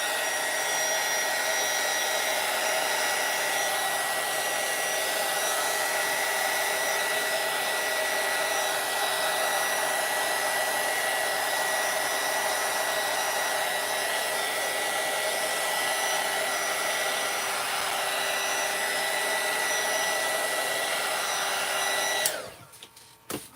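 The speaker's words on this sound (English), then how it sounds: "Just have to dry this. I know, it's annoying because it's going to be loud," A hair dryer blows steadily for over twenty seconds while drying Neocolor crayon artwork on a page, a loud, continuous whooshing roar that cuts off abruptly near the end, with no talk over it.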